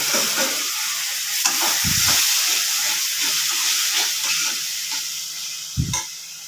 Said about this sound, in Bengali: মশলাটা আর একটু ভাজা হবে